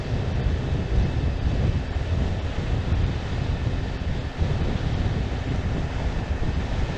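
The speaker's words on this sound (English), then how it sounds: "just once I want to go out when there's no wind whatsoever at all" Wind buffets the microphone out on open water, a loud, steady broadband rush with no letup and no voices.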